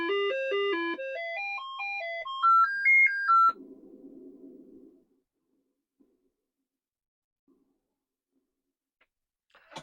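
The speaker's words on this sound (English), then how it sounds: "Sound test good." A Commodore 128 on a diagnostic harness plays its sound test: a quick run of stepped electronic beeps climbing and falling in pitch for a few seconds, then a buzzy tone and near silence.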